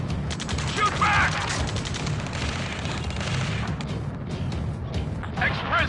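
Rapid bursts of automatic gunfire and explosive impacts from combat in the video game Ace Combat 7 run continuously under shouted voices, dense and loud throughout.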